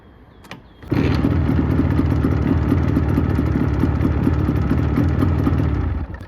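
An IZh motorcycle engine with contact ignition catches after a brief clatter, then runs loud and steady up close with a rough, throbbing idle for several seconds, no voices.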